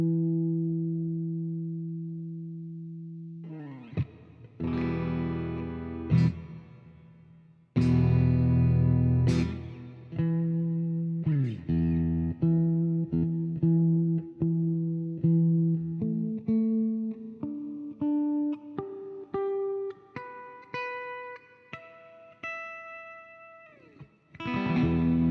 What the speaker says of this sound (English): right now I'm running through a twin reverb with reverb added to it